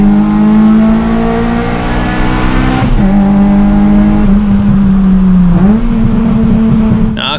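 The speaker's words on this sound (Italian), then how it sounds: "Eccoli una Cupra. Giustamente, bisogna picchiare il limitatore." A Cupra car engine held at high revs against the rev limiter, a loud, steady, buzzing drone with stuttering dips where the limiter cuts in, sounding close and continuous throughout.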